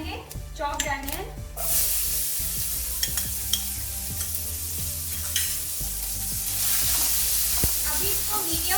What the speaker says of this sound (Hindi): अभी इसको मीडियम फ्लेम में हल्का सा ब्राउन होने तक फ्राई करेंगे